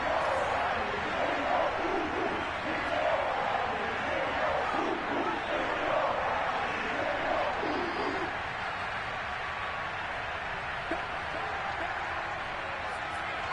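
Stadium crowd roar from a Madden 22 football game, Texans at Browns in Cleveland, a steady dense wash of fan noise rising and swelling through the middle, with speech-like murmur blended in.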